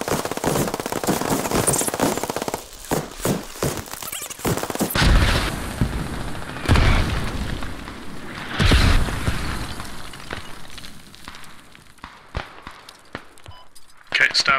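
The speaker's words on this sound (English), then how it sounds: "This is like a 5-minute bombardment." Mortar bombardment in the video game Squad: repeated booming explosions and bursts of gunfire crackle in irregular clusters, some close and loud, others more distant, with players talking over the barrage.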